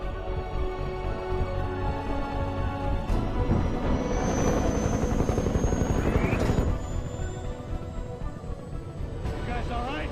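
A helicopter roars with a loud, steady rotor drone in a film scene where masked armed men bring a group aboard. Voices are heard over the engine noise throughout.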